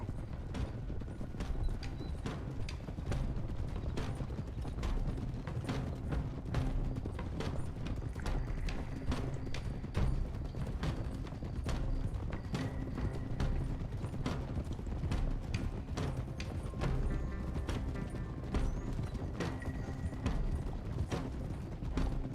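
Horses' hooves clip-clopping in the Red Dead Redemption 2 video game, a continuous close rhythm of many overlapping hoofbeats with creaking tack and occasional metallic jingles underneath.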